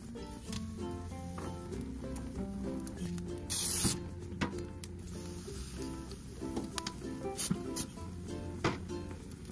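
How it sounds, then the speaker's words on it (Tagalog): Cooking spray hisses onto chicken pieces on a grill in two short, sharp bursts, the second split into quick puffs, over a faint background of music. "Pwede natin i-spray dito sa ating karne."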